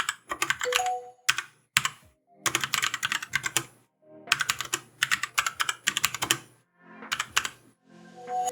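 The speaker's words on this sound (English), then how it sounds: "GK630K Tournament Kailh Brown RGB is the compact mechanical keyboard for gamers without a numeric block." Rapid typing bursts on an SPC Gear GK630K Tournament compact mechanical keyboard with Kailh Brown switches and PBT keycaps, crisp clacks in clustered runs separated by short pauses, close and clear with no talking.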